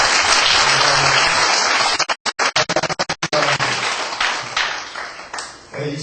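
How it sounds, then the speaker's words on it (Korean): Church congregation applauding newly appointed women deacons at a service: a sustained, loud wash of clapping that breaks into brief gaps and scattered claps midway, then swells again and fades. "뜨거운 박수 한번 드리겠습니다."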